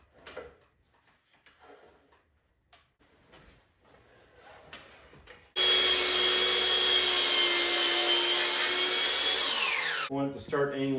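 A power driver sinks lag screws into wood for a solar panel mount, a loud steady whine that holds for about five seconds and winds down, after quieter handling noises.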